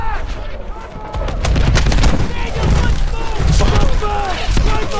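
Gunfire from a World War II battle in Call of Duty WWII, set in the Battle of the Bulge, with dense bursts of shots and heavy thuds rolling continuously under a player's excited speech.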